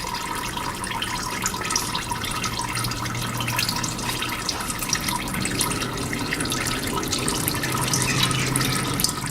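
Engine oil trickling from the drain on a Volvo XC petrol engine, a steady close-up watery stream with faint drips, continuous and fairly even throughout.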